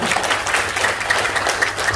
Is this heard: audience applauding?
yes